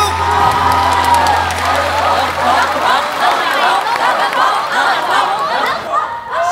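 Audience at a televised music show cheers, whoops and claps for two singers after their duet, a loud, lively crowd roar with shouts and chatter throughout.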